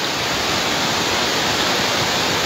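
A strong river current rushes in a dense, unbroken roar, loud and close, with no voices over it.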